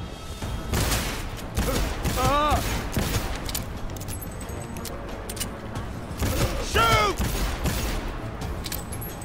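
Gunfire in Cyberpunk 2077, a sustained fusillade of rapid shots with booming impacts and mechanical clatter, loud throughout, with voices shouting over it.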